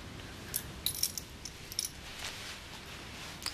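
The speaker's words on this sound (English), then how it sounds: "I presume you'd want your keys back." Keys are handed back, giving light metallic jingles and clinks in a few brief bursts against a quiet indoor room background, with a final louder jangle at the end.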